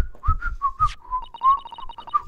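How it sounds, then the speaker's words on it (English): A faint, tremulous whistling melody from the Great Ace Attorney video game, a wavering tone broken into short notes that rises and dips over a few seconds with a soft low rumble beneath, and no talking. "I can hear a faint whistling sound."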